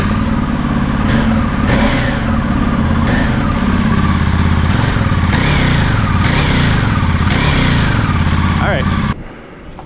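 Ducati Monster 937 motorcycle engine with stock exhaust and decat pipe, loud and close, with repeated rev blips rising and falling over a lumpy idle, a voice talking at times, before cutting off abruptly near the end.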